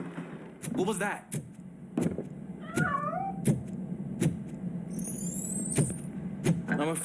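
A cat meows several times in Robocop: Rogue City, short rising and falling cries scattered among footsteps, clicks and background noise, with someone talking between them.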